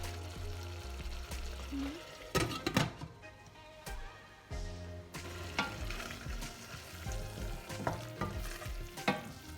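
Kimchi and tomato cooking in a pan on low heat, a steady soft sizzle with repeated scraping stirs and clinks of a utensil against the pan, close and continuous without speech.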